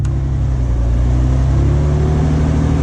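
A beater 1992 Ford F-150 with a leaking exhaust runs loud and close, its engine holding a steady, rough rumble with no talking.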